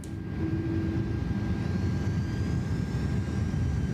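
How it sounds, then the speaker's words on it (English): Inibuilds A330 jet engines spooling at full throttle in MSFS 2024, a steady, rumbling low roar with a faint rising whine above it, sustained and unchanging for the whole span. "I tried to unlock it by going full throttle, I think."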